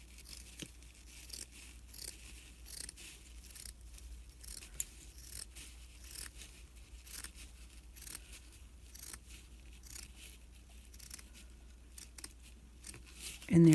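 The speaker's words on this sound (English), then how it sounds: "we're just going to cut our burlap now" Scissors snip through burlap fabric with a string of crisp, rustling cuts, close and fairly quiet, with faint speech in the background.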